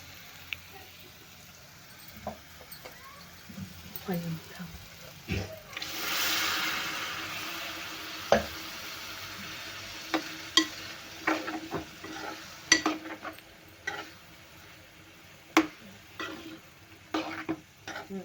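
Masala with red chili powder and turmeric fries quietly in a pan while a spoon stirs and scrapes it in irregular clicks and taps, with a soft sizzle that swells briefly near the middle.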